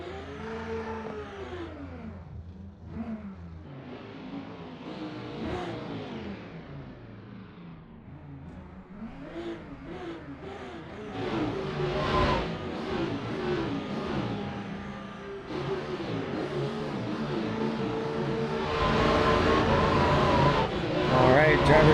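Race cars in the Assetto Corsa video game rev and accelerate off the line at the start of a drift battle, their engine notes rising and sweeping in pitch and growing louder, with a commentator talking over them.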